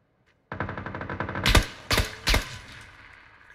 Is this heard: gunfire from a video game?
yes